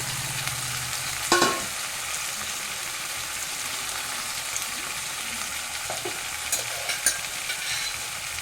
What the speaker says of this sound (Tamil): உப்பு சேர்த்து இதை கிண்டி விடணும் பார்த்துருங்க கிண்டி விட்டு வேக விடணும்